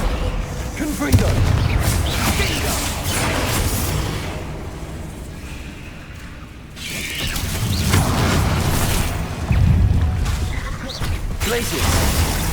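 Fiery spell blasts in the video game Hogwarts Legacy, booming explosive bursts with crackling impacts repeating over several seconds amid continuous battle noise, loud and close, with a voice calling out spells.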